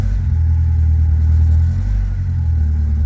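Opel Calibra engine revving under a throttle-response test, a loud, steady mid-range drone close by, held for a few seconds with slight rises and dips in pitch.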